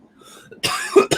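A sharp cough bursts out near the microphone, with a second short cough following a moment later, after a stretch of quiet low murmuring.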